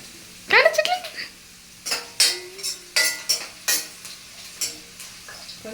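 Food frying in a pan as it is stirred, with a sizzling hiss broken by repeated scraping clatters of a utensil against the metal at close range, while voices speak over it.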